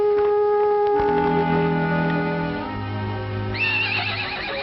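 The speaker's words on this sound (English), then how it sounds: "It's your horse, standing out there as pretty as can be." Loud, close horse whinnying in an old western film, a long quavering neigh that rises, falls and rises again over a soft musical background.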